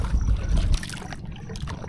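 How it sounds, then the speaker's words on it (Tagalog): Waves hit the shore at Balaki Island in Infanta, Pangasinan, with close, rough sloshing and splashing that eases into quieter lapping water. "Pero may mga tumutunog-tunog dito. Itong ano, hampas ng alon."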